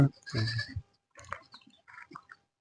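Village sheep bleat nearby in short, separate bursts with quiet gaps between them, and brief speech is mixed among the calls.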